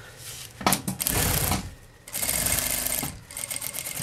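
Sewing machine stitching the side seam of a beach bag, near and loud, running in two long bursts of rapid needle rattle separated by a brief pause, with a short stop and restart near the end.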